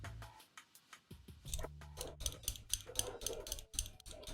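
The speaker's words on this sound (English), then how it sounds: "this is the sound of a Sanwa silent button" Sanwa silent arcade buttons with foam silencing pads tapped in quick, irregular bursts, producing soft, muffled ticks and dull thuds, close but faint, with light handling noise around them.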